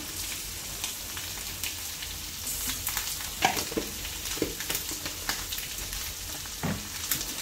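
Goat blood fry sizzles steadily in a pan as masala is added, a dense close hiss with crackles and occasional stirring scrapes and taps, no talking.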